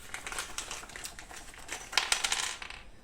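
Small metal bolts are handled and sorted, producing a close series of light clinking and jingling taps, like coins rattling together, quiet and continuous for a few seconds with no talking.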